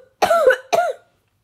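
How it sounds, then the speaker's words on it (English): A single person gives a short two-part cough, close and clear, followed by silence. "Just a little cough."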